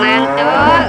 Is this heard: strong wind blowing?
no